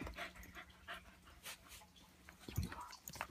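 A dog pants quietly in short, rhythmic breaths at close range, with faint household noise and a brief louder bump midway.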